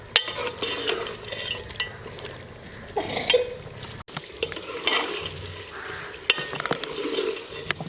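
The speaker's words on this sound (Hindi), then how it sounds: "बीफ को ऑयल में अच्छे तरीके से भून लेंगे" Oil sizzles steadily as meat fries, with occasional stirring scrapes and clinks of a utensil against the pan.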